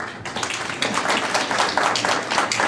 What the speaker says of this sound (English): Can I get an applause for...